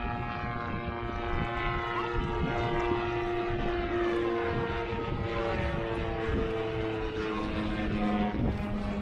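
A seaplane flies by over Crab Island in Destin, Florida, its propeller engine droning loud and steady with a slowly shifting pitch throughout, no voices present.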